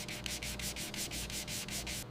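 Rapid rhythmic rasping of 120 to 180 grit sandpaper worked back and forth on the steel slide of a 1927 TT pistol, about a dozen even strokes close up and alone.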